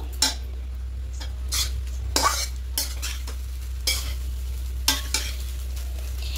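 Sugar being stirred into vegetarian white fried rice in a hot pan, a spoon scraping and clinking in irregular strokes over a low sizzle, close and alone.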